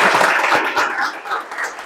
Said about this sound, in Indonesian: kita tepuk tangan semuanya